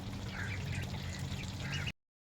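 Meat ducks quack and splash while playing in water, a dense steady chorus of calls over a wet, noisy background that cuts off abruptly.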